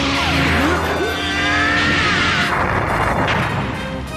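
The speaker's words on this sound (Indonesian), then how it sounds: "terjadi ledakan yang menghancurkan ruangan" Explosion destroying the gravity room in the Dragon Ball Z anime, with whooshing sweeps and energy whines that build into a loud, crashing, noisy blast that rumbles on and fades.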